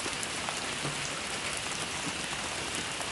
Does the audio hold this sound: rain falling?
yes